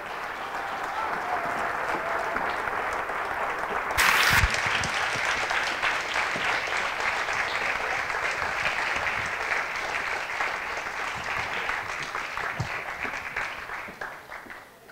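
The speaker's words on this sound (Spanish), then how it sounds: "un aplauso grande" Large audience at a welcome event in Madrid applauds in a long, steady, dense round of clapping with a brief louder burst early on, faint voices underneath, tapering slightly toward the end.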